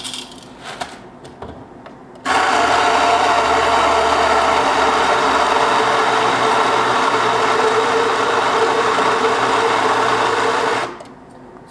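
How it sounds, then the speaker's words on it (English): A Baratza Vario coffee grinder grinds beans at a test setting, a loud, steady high-pitched whir that starts suddenly after a few faint clicks and runs evenly for about nine seconds before winding down. "we'll do a quick little test on it and see how the coffee grinds come out at that"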